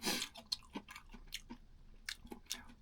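Crunchy bites and chewing of BHC Gold King fried chicken, close to the mic, with irregular crisp crackles and soft mouth sounds over about three seconds and no talking.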